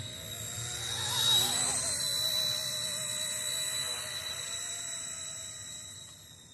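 A whining rotor and motor drone rises close by, then holds steady as a small RC ERA 206 model helicopter flies overhead, with a high-pitched tonal whine throughout.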